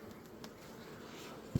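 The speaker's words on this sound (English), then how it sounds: "Yeah, we've got a full hive." Honey bees hum faintly from an open, full hive in a soft, continuous buzz, with a short knock near the end.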